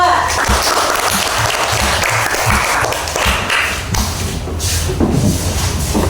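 Loud, dense clapping from a room full of people, with some thumps and shuffling and a few voices underneath.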